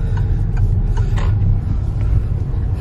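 Cabin of a new car on the move, a low steady road rumble with occasional small creaks and clicks from the interior, no talking.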